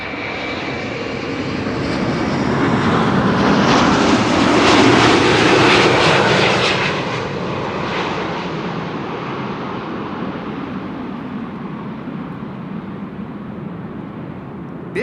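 Aircraft engine noise at Amsterdam Schiphol Airport, a loud broadband roar that swells to a peak and then slowly fades as a plane passes near, with no talk.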